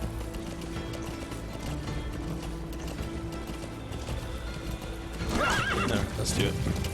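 A horse in the Metal Gear Solid 5 video game gives a sharp whinny over a continuous low rumble and rhythmic hoof clatter as it moves, fairly close and loud in the last seconds.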